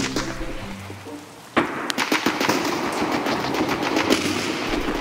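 Rapid bursts of gunfire in the video game Escape From Tarkov crackle continuously after a sudden loud onset, dense and close, with sharp repeated shots over a steady noisy background.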